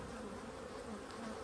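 Thousands of honeybees hum inside an open hive during winter feeding, a dense, steady buzz that is close and continuous for the whole short moment, with no talking.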